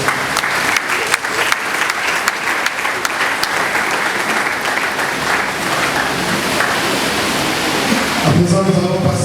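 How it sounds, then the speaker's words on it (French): A hall audience of pharmacists and guests applauds together at a funeral ceremony, a steady dense wash of clapping that runs loud and unbroken for several seconds before ending abruptly, leaving a brief trace of talk. "nous demandons à tous les pharmaciens et la salle également d'applaudir pendant quelques secondes pour les pharmaciens"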